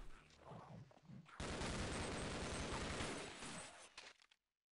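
Sustained burst of gunfire in the video game Half-Life, a dense loud volley lasting about three seconds after a short stretch of quieter game sounds, then cutting off abruptly.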